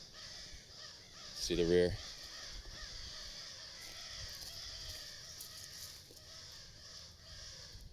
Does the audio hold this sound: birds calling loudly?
yes